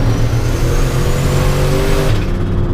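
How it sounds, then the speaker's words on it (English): Chevrolet Colorado with boost doing a rolling burnout, engine roaring loud and close under heavy throttle with a sustained broadband rush from spinning tyres, easing off right at the end. "still burning the tires"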